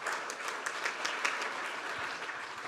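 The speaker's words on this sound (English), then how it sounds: "A big round of applause for all of our keynote speakers." An audience at an energy-grid innovation summit applauds its keynote speakers, a faint, steady patter of many hands clapping with a few sharper claps standing out.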